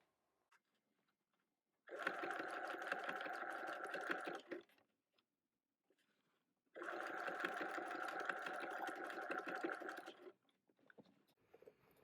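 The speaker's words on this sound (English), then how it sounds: "I'm making sure that I keep that elastic tight and the fabric on the front and the back nice and flat as it passes under the machine, using a 3-stage zigzag" A sewing machine runs a 3-stage zigzag stitch over elastic held tight against fabric, buzzing steadily in two separate bursts of about three seconds each, with quiet pauses between.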